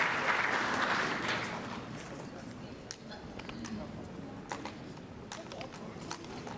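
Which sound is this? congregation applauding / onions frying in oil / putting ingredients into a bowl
congregation applauding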